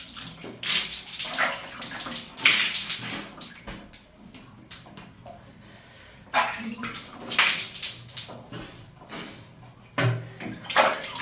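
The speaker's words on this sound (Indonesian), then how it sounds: "Nah barulah kalian bilas. Saya rasanya udah cukup, so kita bilas." Running water splashing over skin in bursts as someone rinses scalp and face after scrubbing away flaky dead skin, with loud intermittent gushes separated by quieter dripping pauses, close by.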